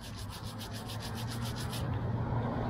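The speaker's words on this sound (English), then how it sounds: "Let me get my little brush here. Let's get some of this dirt off of it." A small brush scrubs dirt off a pocket knife dug up while metal detecting, making a close, rapid run of dry scratchy strokes that stops partway through, leaving a soft outdoor rustle.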